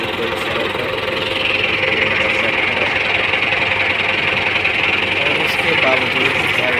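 A tractor engine labours hard while pulling a stuck harvester out of a swamp, a loud continuous drone with a knocking rumble running throughout, a voice talking over it.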